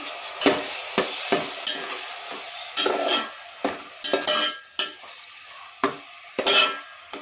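Raw prawns and onions stirred in a pan for a prawn and brinjal curry: a soft sizzle under repeated sharp spatula scrapes and knocks against the metal, close and irregular, with no voices.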